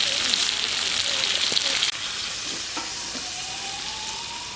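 Chicken meat fries in hot oil in a pan, a loud steady sizzle close by, with brief stirring scrapes and clinks and a soft tonal whine partway through.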